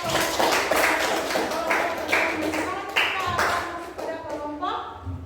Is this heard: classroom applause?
yes